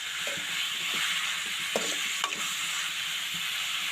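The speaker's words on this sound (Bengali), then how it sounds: "আমি শাকটা দিয়ে দিলাম, দিয়ে আমি ভালো করে নাড়াচাড়া করে আমি পেঁয়াজ রসুনের সাথে শাকটা" Bathua greens being stirred into fried onion and garlic in a pan, a steady sizzle beneath scattered scraping strokes of a spatula, close and moderately loud with no voices.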